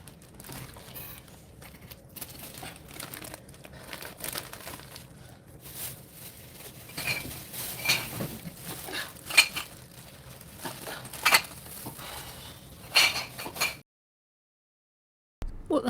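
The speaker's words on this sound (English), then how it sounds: "Sounds like crockery and dishes and cups." Crockery, dishes and cups shift and rattle inside a bin bag in scattered bursts of clinks and clatters over a low rustling background, then the sound cuts out briefly near the end.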